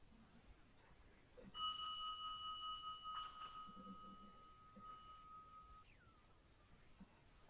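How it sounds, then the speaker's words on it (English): A bell is struck during a calming self-care workshop meditation, and it rings out as one clear, sustained tone. A second softer strike follows, and both decay slowly into quiet room noise. "go ahead and ring the bell as you just ease your way into the real world again"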